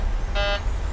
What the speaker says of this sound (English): Why are you beeping at me? What did I forget?